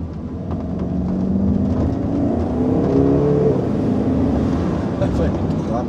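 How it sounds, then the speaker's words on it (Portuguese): A 2014 BMW X6M engine revs up and accelerates hard with a rising, loud drone from inside the car, while someone speaks over it. "E vamos dar uma aceleradinha aqui."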